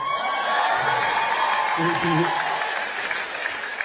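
A comedy show audience claps and cheers, a full wash of applause with laughter and some whoops mixed in, fairly loud and continuous throughout.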